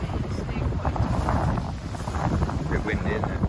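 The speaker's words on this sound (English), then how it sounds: "A bit windy, isn't it?" Strong coastal wind rumbles steadily against the microphone, a continuous loud blustery roar with no pauses.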